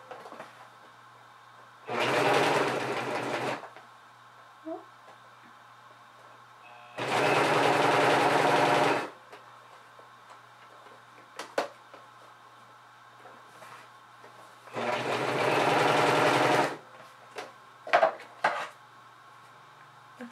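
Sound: Singer Professional 5 serger sewing machine running

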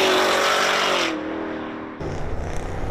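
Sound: car engines revving on Woodward Avenue

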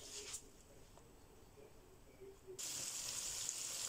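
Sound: coated chicken frying in hot oil

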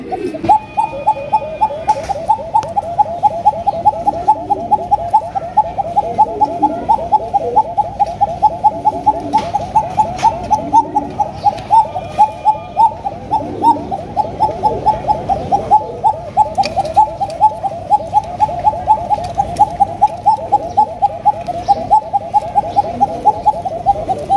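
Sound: Bashiraj pigeon calling (cooing)

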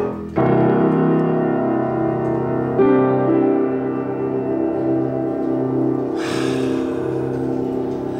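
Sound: upright piano played, deep bass notes

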